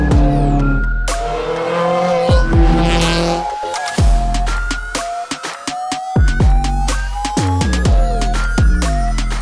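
A 1968 Porsche 910 race car, unit 018, on a hill climb at Puig Major in Mallorca: loud, close engine howl rising through gears with repeated revs, abrupt shifts and downshift blips, and a brief lull before climbing again.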